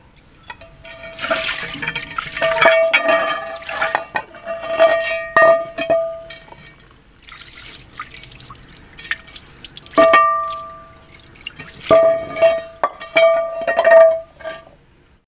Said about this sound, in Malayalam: നമുക്ക് വെള്ളമൊഴിച്ച് കഴുകാം.